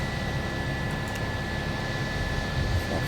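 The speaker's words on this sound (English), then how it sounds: "The engine started." Steady roar of an Airbus A319 jet engine running up in a Toliss flight simulator, a constant broadband whoosh with a thin high whine on top, with no gaps or talk.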